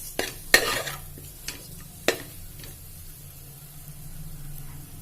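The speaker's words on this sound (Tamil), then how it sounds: "அதையும் ஆட் பண்ணிவிட்டு நல்லா வதக்கி விட்டுக்கலாம்." Small cubed potatoes sautéed in a pan for a potato curry: a few sharp utensil scrapes and clinks early on, then a low steady frying hiss that swells slightly toward the end.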